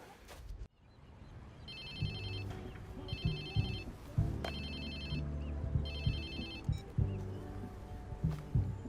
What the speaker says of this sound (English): Hello? Whose phone is this? It's your new phone.